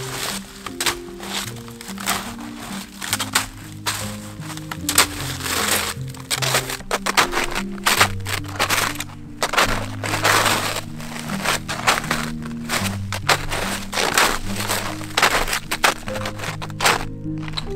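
TSL Symbioz snowshoes crunch through powder snow in a steady run of close, crisp footsteps over a continuous low background hum, with no speech.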